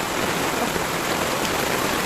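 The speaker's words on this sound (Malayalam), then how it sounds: "നല്ല ശക്തിയിൽ മഴ പെയ്യുക" Heavy rain pours down in a dense, unbroken roar of hissing water, loud and close, with no voices.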